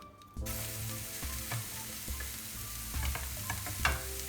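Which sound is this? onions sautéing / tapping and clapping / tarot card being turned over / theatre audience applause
onions sautéing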